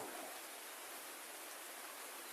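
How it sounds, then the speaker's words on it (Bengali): Light drizzling rain falls outdoors under a cloudy sky, a faint, even, continuous hiss with no distinct drops or voices. "মানে বৃষ্টি গুড়ি গুড়ি ভাবে হচ্ছে।"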